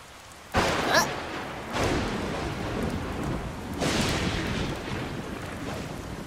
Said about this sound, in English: A bolt of lightning struck the tree.